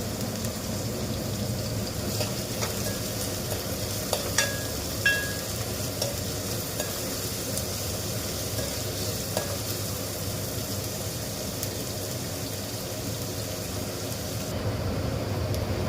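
Finely chopped onion and two chillies sizzle in a pan for goat leg curry, a dense, loud, constant frying hiss with occasional utensil scrapes and taps as the mixture is stirred.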